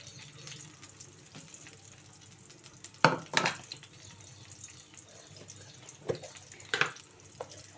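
Sliced onion and green chillies fry in oil in a pan with a low, steady sizzle. A few louder scrapes and clatters of stirring break through around the middle and near the end.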